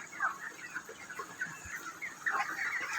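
Broiler chickens, about 27 days old, cluck continuously in a flock of around 800 on a poultry farm, their calls overlapping near and far at moderate volume.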